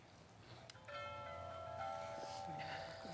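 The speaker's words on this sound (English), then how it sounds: "You just wanted to touch the wind chimes" Soft metallic tones of wind chimes touched by hand ring out and shimmer with sustained overtones, a few light strikes heard in a quiet room during a memorial gathering.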